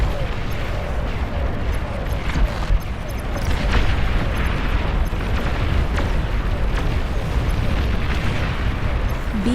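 Commander unit blowing up in the strategy game Beyond All Reason, a dense battle soundscape of deep rumbling booms and bursts layered under constant low combat noise, with no single blast standing out clearly.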